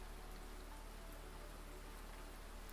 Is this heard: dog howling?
no